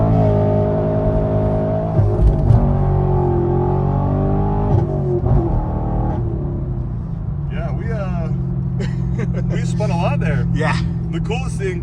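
A 2018 Chevrolet Camaro SS 1LE in competition mode, its V8 droning under steady revs and then climbing hard in pitch as it accelerates. People talk over the engine throughout.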